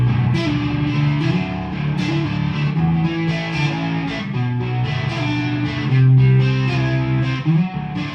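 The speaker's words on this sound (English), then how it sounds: "So here's the blues driver effect. We'll kick it on that sound." An electric guitar plays through a Blues Driver overdrive pedal, producing a sustained, lightly distorted tone as chords and notes ring out continuously and loudly.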